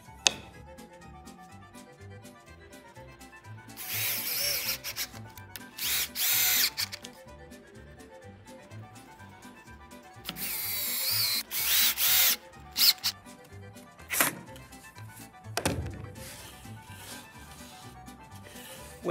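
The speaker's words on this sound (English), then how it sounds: "Now we're gonna attach the diagonal supports to the base with glue and screws" A power drill drives screws into the wooden diagonal supports of a homemade catapult base, in several loud bursts of whirring separated by quiet pauses.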